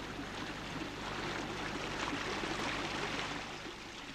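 A babbling brook on a sheltered stream bank in Patagonia, a soft, continuous rushing and gurgling of water that holds steady for a few seconds with no other sounds.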